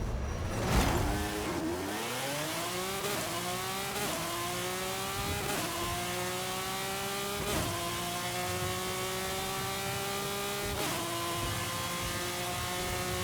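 McLaren in Forza Horizon 5 accelerating hard on a mile-long drag run, its engine note climbing steadily through repeated gear shifts with sharp breaks at each change, loud and continuous with no talk over it.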